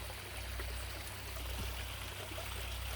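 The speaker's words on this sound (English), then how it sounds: "My little waterfall back there still looks the same." Small backyard waterfall on a converted swimming-pool fish pond trickling steadily, a constant close wash of falling water with no pauses.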